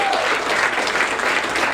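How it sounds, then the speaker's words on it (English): A comedy-show audience at a country club breaks into loud, steady applause that fills the whole moment, with a dense, even wash of many hands clapping close by. "Give him a round of applause."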